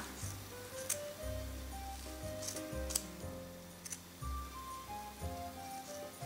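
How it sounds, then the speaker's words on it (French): Scissors snip small strands of wool to trim a pompom, a few quiet crisp cuts spread over background music, close and soft. "je vais venir découper ici les petits bouts de laine"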